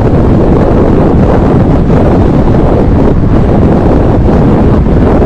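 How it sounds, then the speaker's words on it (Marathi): Strong wind buffets the microphone during a motorcycle couple ride on the road to Hosur, a loud, continuous low roar that saturates the sound without a break. "तुम्हाला आयडिया येईल की किती वारा आहे तो"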